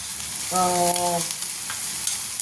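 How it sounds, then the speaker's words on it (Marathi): Hot oil sizzles and crackles steadily as ginger, garlic and onion go into a pan for tempering, with a short tonal hum rising over the frying partway through. "अद्रक लसूण कांदा याची फोडणी दिली आपण"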